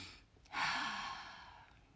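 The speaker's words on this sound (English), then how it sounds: "Let's take a big cleansing breath together." A single deep breath, a quiet intake followed by a long, audible sighing exhale that fades out gradually, close and soft with no talk.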